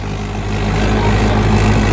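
A Mahindra XP Plus tractor engine runs steadily with a constant, loud low rumble and a deep drone throughout, and no voices are heard.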